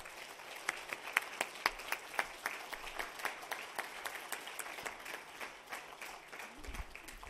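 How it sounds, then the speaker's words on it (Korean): A church congregation at an anniversary revival meeting applauds as the pastor comes forward, a steady round of many hands clapping at moderate distance, fairly quiet, with scattered sharper claps standing out. "나오실 때 크게 박수로 우리가 목사님 맞이하도록 하겠습니다."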